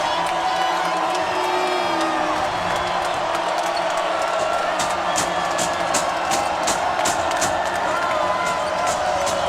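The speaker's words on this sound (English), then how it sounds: "This crowd, my goodness." A basketball arena crowd in Spokane at a Washington versus Gonzaga game cheers loudly and continuously, with whoops and sharp sneaker or ball sounds cutting through the roar as a commentator talks over it.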